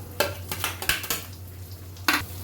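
Urad and chana dal roast in a pan with mustard seeds, heard as a soft sizzle punctuated by a handful of sharp metallic clacks and scrapes from a spoon stirring against the pan.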